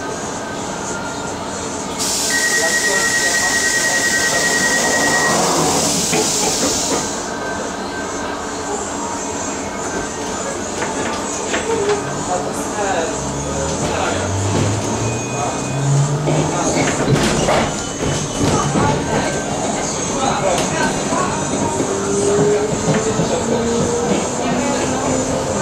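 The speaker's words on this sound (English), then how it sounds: "This is a District Line train to Upminster." A London Underground District Line D Stock train rides between stations with a loud rolling rumble, a door-warning beep and hissing doors early on, then whining motors accelerating, while recorded announcements play.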